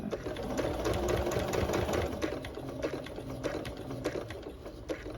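A sewing machine stitches fabric for a bow-shaped scrunchie with a steady, fast mechanical whir and clatter. It runs continuously and close by, with no voice over it.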